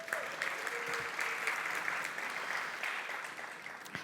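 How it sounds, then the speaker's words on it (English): Steady, dense applause from a demo day audience for the 500 Global Eurasia Batch 10 founders, fairly loud and continuous, with no break for the full four seconds. "So let's give 500 Global Eurasia another round of applause."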